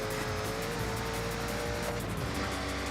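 A fast race car in a racing video game, its engine a steady high whine under continuous road roar, with brief tire squeal and no letup, fairly loud throughout.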